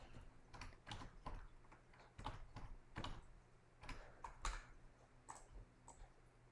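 Quick, uneven keystrokes on a computer keyboard as an equation is typed, coming in short bursts of soft clicks with brief pauses, fairly quiet and close by.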